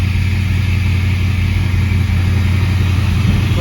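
A NASCAR-style Trans Am with an LS engine swap idles cold at a fast idle, a steady, loud, continuous low rumble with no talking over it.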